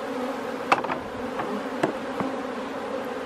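Honeybees around a beehive fitted with a propolis grid make a steady, close drone, with individual bees zipping past the microphone in brief, louder buzzes.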